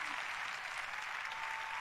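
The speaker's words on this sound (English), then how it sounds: "So some more applause for you, as you deserve it." Steady applause fills the room for an honorable mention winner on a live show, a dense even patter of clapping hands holding at a constant level throughout.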